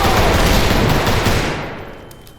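Rapid burst of gunfire from a pistol in a Roblox game, loud and dense for most of the stretch, then fading away toward the end.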